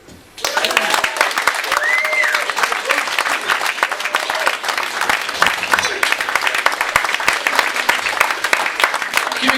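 Comedy club audience in Swansea clapping after a comedy set: loud, sustained applause starting abruptly and continuing at full strength, with scattered whoops and a voice speaking over it.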